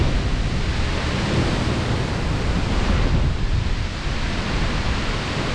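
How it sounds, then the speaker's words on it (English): Strong winds of up to about 80 miles per hour roar across a backyard in a loud, unbroken rush that buffets the microphone, with no voices heard. "You see how windy it is."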